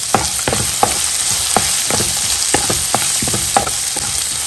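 A large chopped onion sautés in a hot pan, a steady close sizzle broken by regular scraping strokes of a stirring spoon roughly every half second.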